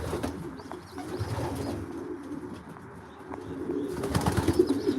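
Racing pigeons coo softly in their loft, a steady low burbling from several birds, with occasional wing flaps and rustling nearby.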